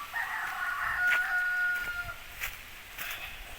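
A rooster crows loudly at a pig farm, one long drawn-out call near the start followed by shorter clucks and squawks from nearby fowl.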